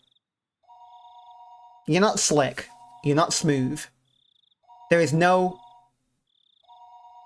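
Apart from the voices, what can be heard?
telephone ringing in Higurashi When They Cry video game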